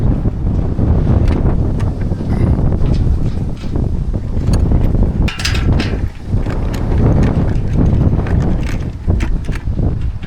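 Strong wind buffets the microphone continuously during a ham radio tower and antenna installation, a loud low rumble with gusty bursts and occasional knocks throughout.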